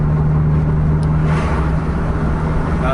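Bus engine pulling hard at full throttle on an Aceh road, climbing toward a top speed near 100 km/h, with a steady loud drone and broadband road and wind roar throughout.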